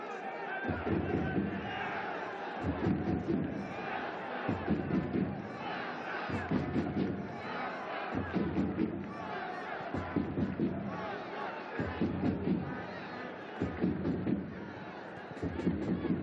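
Football stadium crowd at an AFC Champions League Two match between PFC Nasaf and Shabab Al Ahli roaring for a handball, with loud rhythmic chant-like surges repeating about every two seconds, dense and sustained.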